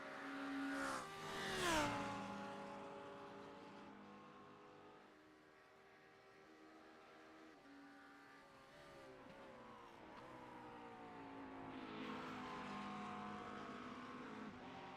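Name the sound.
Lamborghini GT3 race car engine, racing video game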